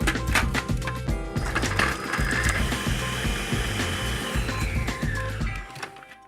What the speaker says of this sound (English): Now what I'm going to do is start to chop this in the food processor.